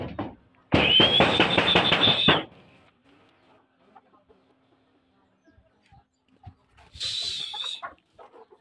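Loud, close clucking and squawking from 15-week-old caged layer hens in a dense burst, then a pause with faint sounds, and another shorter squawk near the end.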